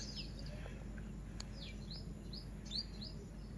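Several small birds chirp and tweet in a park in short scattered calls over a low steady background hum, fairly faint and a little distant.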